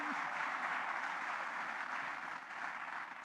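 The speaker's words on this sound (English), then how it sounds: "let us give a round applause to Asha for the good things that she is doing" Applause from an audience at a college cultural fiesta, a dense, steady wash of clapping that holds for the whole stretch and eases off slightly near the end.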